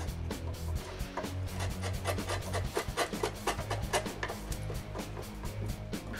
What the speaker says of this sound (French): Je fignole le tout droit à la fin avec le même ciseau à bois.